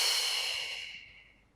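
A single long breathy exhale during a Pilates mat exercise, close and airy, fading gradually over about a second and a half.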